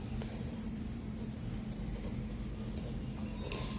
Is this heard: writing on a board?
yes